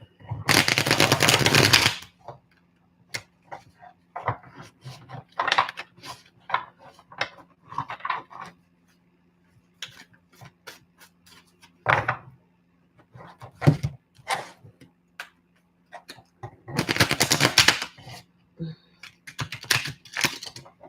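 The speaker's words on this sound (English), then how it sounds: "I'm so used to shuffling this deck now" A deck of oracle cards being shuffled by hand, with loud riffling bursts at the start and near the end and many short card snaps and taps between, close and dry, with occasional quiet speech.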